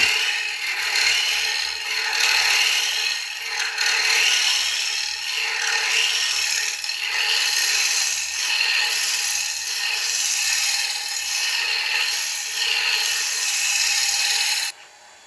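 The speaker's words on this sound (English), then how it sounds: "I'm going to create that tenon there. I'm going to put a shoe just behind it." A woodturning tool cuts a tenon on a spinning wooden blank on a lathe, a steady loud scraping rasp that runs continuously and close for about fifteen seconds before stopping abruptly.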